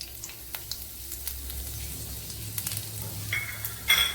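A small piece of ginger fries in coconut oil with a steady, soft sizzle, scattered crackles and pops, and a louder hissing burst near the end; no one speaks.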